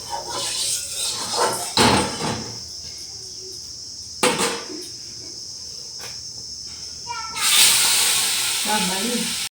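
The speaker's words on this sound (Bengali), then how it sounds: "মাছগুলো ভাজা শুরু করে দিই।" Fish going into hot oil with turmeric: a few sharp knocks and clatters, then a loud, close burst of hissing sizzle that keeps going, with a voice talking at times.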